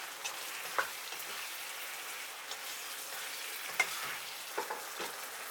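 Eggplant pieces sizzle and fry steadily in a hot pan with sesame oil, a continuous crackling hiss broken by a few sharp clinks and scrapes of stirring, close up with no talking.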